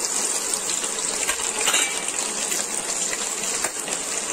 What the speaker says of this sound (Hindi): अब मैं डाल रही प्याज और मिर्ची।